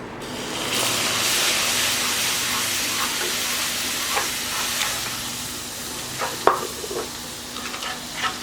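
Milk poured into caramelized sugar in a pan for macaroni payasam gives a steady, close hissing sizzle with faint stirring scrapes and a few small clinks, and no voices.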